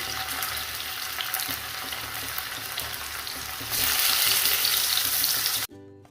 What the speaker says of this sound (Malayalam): അപ്പോൾ ഇതാ കായം തേച്ച് വെച്ചിട്ടുള്ള മീൻ ഞാൻ ഇതിലേക്ക് ഇട്ട് കൊടുക്കുകയാണ്.